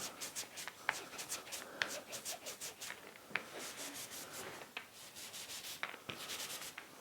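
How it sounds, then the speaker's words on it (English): Glue is brushed or spread onto an MDF drawer front in quick, quiet rubbing and scraping strokes, close and faint, with soft taps between. "I'm making sure that I do get enough onto the surface of the MDF, and I'm doing my very best to get an even coating of glue."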